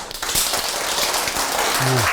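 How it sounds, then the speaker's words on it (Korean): Elderly residents and children at a neighborhood senior center clap together in greeting, a dense, even burst of hand claps, with a short voice rising at the end. "우리 상호 인사를 다 같이 박수로서 인사를 합시다. 다 같이 박수!"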